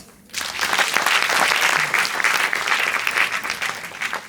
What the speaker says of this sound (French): On les raccompagne avec des applaudissements bien nourris.